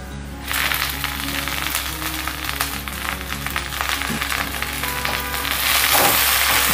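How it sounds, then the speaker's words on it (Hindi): Amaranth greens hit a hot pan of fried onion, chili and garlic, setting off a loud steady sizzle that swells slightly near the end, close by and with no talking. "अब हम इसमें हरी वाली साग डाल देंगे।"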